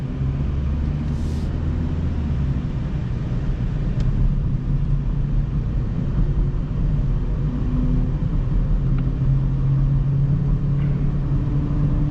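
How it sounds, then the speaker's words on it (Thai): A 2023 Mazda2 1.3 SP sedan drives past at 40 km/h on a test run. A steady, fairly loud low road and engine rumble fills the whole stretch with little change, and no voices are heard. "อันนี้ขับผ่านเฉยๆนะครับที่ความเร็ว 40"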